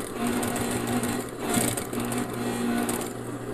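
A sewing machine runs steadily as it stitches around a fabric trivet, a continuous close mechanical whir with a slight rise partway through and no talking.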